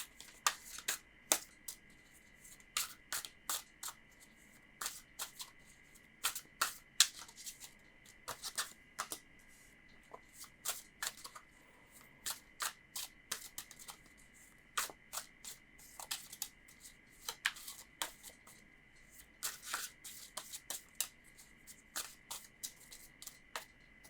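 Tarot cards are shuffled by hand in quiet, repeated bursts of crisp riffling and flicking, soft and close, with short pauses between shuffles and no talking.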